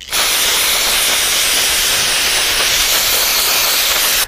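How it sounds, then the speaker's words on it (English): Aerosol carburetor cleaner sprayed onto a sandblasted steel part ahead of powder coating, one continuous loud, close hiss that starts abruptly, holds steady for about four seconds and cuts off sharply. "I'm going to try spraying any last little bit of oil that might be on this part off"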